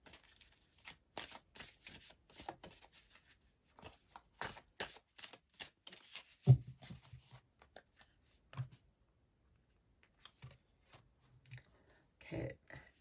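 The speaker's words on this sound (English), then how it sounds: "let's get a couple mudra cards here for you" Mudra oracle cards are shuffled and pulled in quiet, close handling, with soft flicks and riffles scattered across the span, one sharper slap and longer gaps of near silence. No talking.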